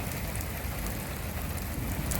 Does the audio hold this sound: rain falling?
yes